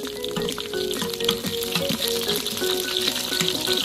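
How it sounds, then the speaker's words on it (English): Green chilies and coriander sizzle steadily in hot oil in an Instant Pot, with a constant bright frying crackle and light stirring scrapes close by. "Now that the corianders are sort of cooked in there, we're gonna put the green chilies now."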